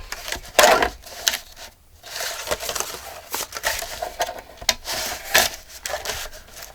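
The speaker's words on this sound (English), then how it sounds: "We're going to use the Grungy Cruncher." A Grungy Cruncher paper-crafting tool crunching a sheet of paper for a grungy waterfall page, a series of uneven scraping, crinkling rubs with a few sharper crunches, close and alone.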